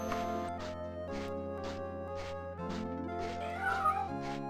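In The Elder Scrolls II: Daggerfall, a cat meows at steady, evenly spaced intervals over sustained tonal game music. Each meow is short and moderately loud, and no one speaks.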